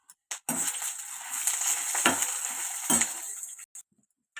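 Coriander seeds, with a spoon stirring them through a hot pan for an Andhra pickle, make a steady close scraping and sizzling rasp with a few louder strokes, cut short by brief pauses at the start and end.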